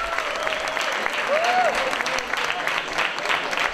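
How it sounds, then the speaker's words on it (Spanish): Loud applause from an audience at a film preview presentation, with a thick, continuous burst of clapping mixed with some crowd voices and a brief whistle-like rising tone in the middle. "Por favor, un fuerte aplauso."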